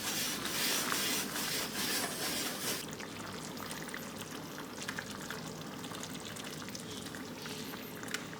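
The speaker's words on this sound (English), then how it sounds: "So you just want to let that sauce boil a little bit." Alfredo sauce for lobster pasta boiling and thickening in a pan, a steady soft bubbling and hiss that runs throughout, fairly close and unbroken, with no talk over it.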